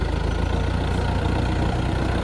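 A tractor's engine idles steadily nearby in a farmyard, a constant low rumbling throb with no talking. The tractor is 16 years old with 8,500 hours on it.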